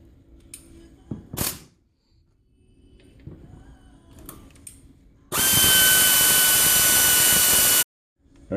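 A power impact tool cracks loose a 14 mm brake caliper bolt on a 2007-2012 Mazda 6 during a front brake pad and rotor job, one loud sustained burst of about two and a half seconds after quieter clanks and handling noises.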